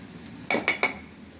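A metal spoon clinks three times in quick succession against a cooking pot as turmeric goes into chatpati dal, sharp and close over a quiet background.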